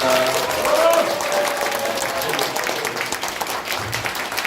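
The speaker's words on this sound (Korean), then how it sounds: "좋은 강연해 주신 우리 이현주 의원님께 큰 박수 부탁드리겠습니다" Audience applause in a hall after a lecture, a burst of clapping from many people mixed with crowd noise while a host speaks over a microphone.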